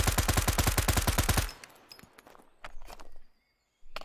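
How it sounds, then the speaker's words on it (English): A full-auto burst in the shooter game Road to Vostok: roughly fifteen rapid, evenly spaced loud shots for about a second and a half, then a short tail of faint clinks and handling noises. "So let's just see how full auto sounds."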